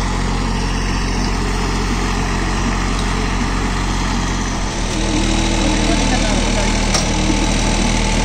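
A VST 922 mini tractor engine runs steadily with a PTO-driven bed-forming farm implement, a close, constant rumbling drone that holds level throughout.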